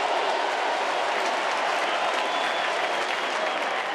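Broad, roaring crowd applause in a baseball stadium during a Giants vs. Nationals playoff game, a steady wash of clapping and cheering without breaks.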